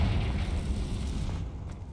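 A Confringo blasting spell explodes in Hogwarts Legacy as a deep, rumbling boom that fills the start and slowly decays, with a few faint clicks at the tail.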